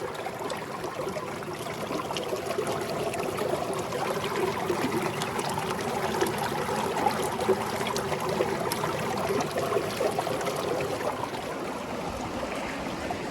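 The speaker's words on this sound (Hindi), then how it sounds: "मैं थोड़ा सा एक आवाज़ सुना के देता हूँ, जो नदी की आवाज़ है।" A river flowing in Ladakh on the road from Leh to Hunder, a steady broadband rush of water that stays close and fairly loud throughout, with no voices over it.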